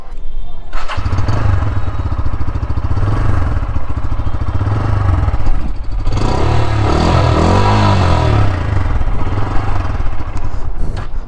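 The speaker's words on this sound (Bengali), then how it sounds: "এই বাইকটার আরেকটা ভালো দিক হচ্ছে এই বাইকটার সাউন্ড তো আপনাদের একটু শোনায় আগে" A Bajaj Pulsar N160 motorcycle engine runs loud and close, starting and then idling with a steady throbbing rumble and a couple of revs, without any talking over it.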